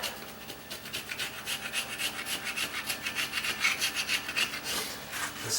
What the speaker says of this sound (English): This is just a regular wood chisel I'm using.